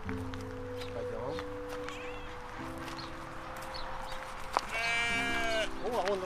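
Sheep bleat at a farm park where a pink-dyed lamb stands among the flock, giving several drawn-out wavering cries against a steady low hum, while someone talks to a child nearby.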